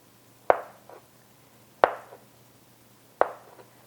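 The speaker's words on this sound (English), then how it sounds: "So I use my potatoes now and cut them into slices" A knife slices boiled potatoes into smaller pieces for a South German potato salad. Three crisp, close chops land on a cutting board at an even, unhurried pace against a quiet room.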